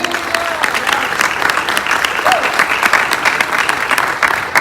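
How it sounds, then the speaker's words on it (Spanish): A church congregation at a Spanish-language service breaks into loud, dense clapping that holds steady throughout, with a voice faintly audible over it. "Denle esas fuertes palmas al Padre"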